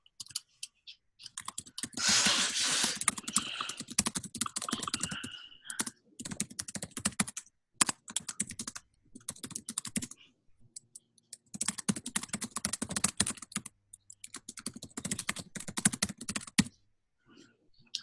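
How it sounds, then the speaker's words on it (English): Fast, furious typing on a computer keyboard during an online working-group meeting, dense bursts of key clicks with short pauses between runs, close and fairly loud, with no talk over it. "A lot of furious typing."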